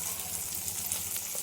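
Chopped tomato with salt frying in a pan gives a continuous, even hiss of sizzling oil at moderate level, steady and unbroken throughout, with no voices.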